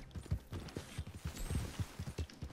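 Horse hooves clip-clopping in a video game, a quick steady rhythm of close, dull thuds running throughout with no talk.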